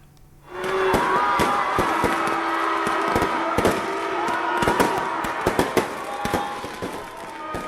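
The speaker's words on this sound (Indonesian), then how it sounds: "Meski di tengah hujan, warga tetap antusias menyaksikan pesta kembang api" New Year fireworks display bursting in the rain over Bandung, a dense run of loud cracks and booms layered over a steady roar of crowd and rainfall.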